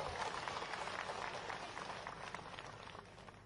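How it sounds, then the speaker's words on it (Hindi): A crowd at a BJP political rally applauds, a steady, fairly distant wash of clapping with a faint low hum beneath it, tapering slightly toward the end. "ताली बजाओ जो।"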